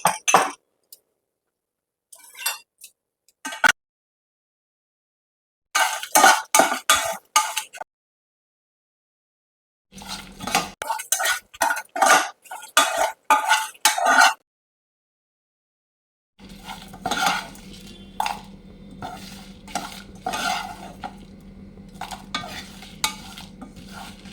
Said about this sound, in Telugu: ఇవి వేపుకుని ఉంచుకుందాం